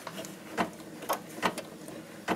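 A sewing machine starts the first stitches of white thread through fabric for a small treat bag, giving a few short, distinct mechanical clicks and thumps spaced about half a second apart, close and fairly quiet with no talking.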